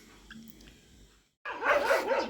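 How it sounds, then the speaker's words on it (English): Several dogs bark excitedly at a tractor and straw baler nearby, a sudden loud, overlapping outburst after a quiet stretch of low background hum. "my dogs are going absolutely apeshit over here"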